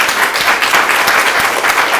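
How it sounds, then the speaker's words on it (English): Loud, dense audience applause for a morning panel at a furniture-industry event, a brief continuous burst of many hands clapping close by. "Should we give them an applause?"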